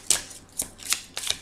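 Tarot cards shuffled by hand in several quick, crisp riffles close up, each burst short and papery, with quiet pauses between and no talking.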